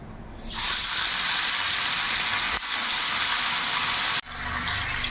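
Small whole fish dropped into hot refined oil in a wok, bursting into a loud, continuous close sizzle and hiss that holds steady with two brief breaks.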